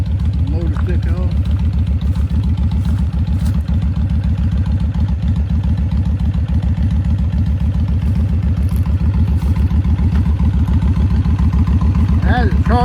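A Kawasaki Vulcan 1500 motorcycle engine idles close by with a steady, loud, rapid chugging rhythm that continues throughout.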